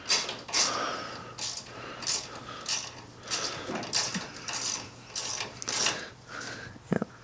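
A ratchet tightens bolts on a BMW power steering part, with a series of sharp, evenly spaced clicking bursts repeating close up throughout, and no talking.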